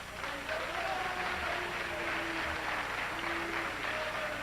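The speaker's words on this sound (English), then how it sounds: "They're booing him." A large audience at a community debate reacting to Larry Elder, a continuous broad crowd roar with vocal tones running through it, sustained and steady throughout.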